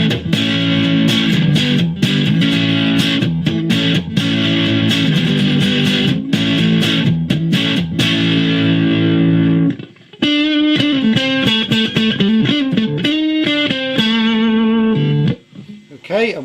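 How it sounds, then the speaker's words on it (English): Electric guitar played on the neck pickup through an amplifier set to light crunch distortion with no reverb, strummed chords ringing out, then a short gap and single-note picking, loud and close. "Now let's put some bit of crunch on the amplifier."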